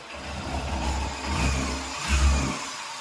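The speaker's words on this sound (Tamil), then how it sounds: "வண்டியோட சவுண்ட் எப்படி இருக்குன்றதை பார்த்துக்கோங்க." A Yamaha FZ S motorcycle running after a full engine rebuild gives off a low, close rumble that swells twice as the throttle opens and eases back, and no one speaks.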